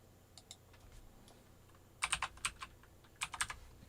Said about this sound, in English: Pretty sure I'm typing this right.